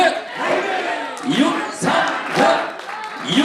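Crowd at a political rally for Yoon Sang-hyun shouts a rhythmic fighting chant in unison, loud, close bursts of massed voices repeating in a pulsing pattern with cheering between calls.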